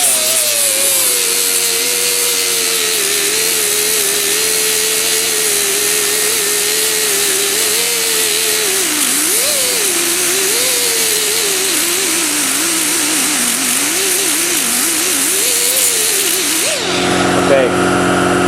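A grinder works down a weld on a Camaro door panel: a steady, loud, rough whine with a wavering pitch runs for about sixteen seconds, then cuts off abruptly near the end.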